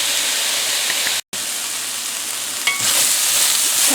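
Chipotle steak fajitas sizzle steadily in a pan, a close, loud, continuous frying hiss with a brief gap partway through and a small clatter near the end, no voices.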